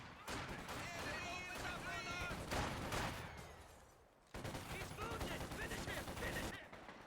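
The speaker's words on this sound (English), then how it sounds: "Heavy machine gun team, prepare for combat." A heavy machine gun in Company of Heroes 2 keeps up dense, loud sustained gunfire with a short pause midway, and game voices sound beneath the shooting.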